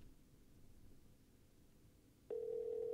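A telephone dial tone in The Walking Dead: A New Frontier video game starts abruptly after a near-silent stretch and holds as a steady, clean electronic hum to the end, with no speech.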